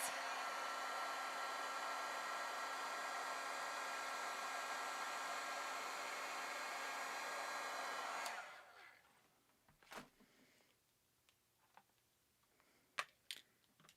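A heat tool for melting embossing powder on a paper craft card blows a loud, steady whirring rush for about eight seconds, then cuts off, leaving a quiet room with a few scattered handling clicks and taps.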